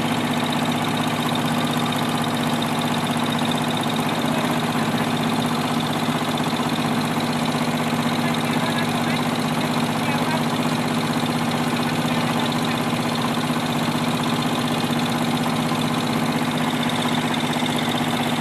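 Steady, droning engine of a coal-hauling boat on the Musi River in Palembang, a continuous mid-pitched rumble with a constant hum and faint knocking, heard close and unbroken throughout.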